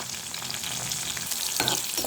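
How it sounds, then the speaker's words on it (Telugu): Brinjal and green chilli pieces sizzle in a hot oil pan while being stirred for a cucumber pickle, a loud, steady close frying hiss. "చక్కగా వంకాయ ముక్కలు, పచ్చిమిర్చి ముక్కలు ఫ్రై అవ్వాలి"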